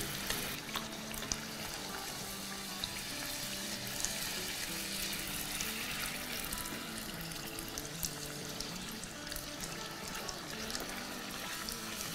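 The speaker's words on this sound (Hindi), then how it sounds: "इसी तरह ऑयल डालेंगे जब तक के फूल ना जाए पूरी" Pani puri dough rounds frying in hot oil as oil is spooned over them, giving a steady, close bubbling sizzle that runs unbroken throughout with no voices.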